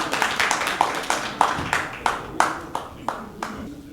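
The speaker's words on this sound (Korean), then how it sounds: "네, 뜨거운 박수로 맞이해 주세요." Audience at a Korean peace and unification symposium welcomes the next reciter with clapping, a sparse, rhythmic run of distinct, fairly loud hand claps, roughly two or three per second, each ringing briefly in the hall.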